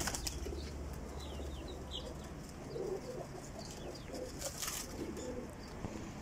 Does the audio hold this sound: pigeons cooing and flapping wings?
yes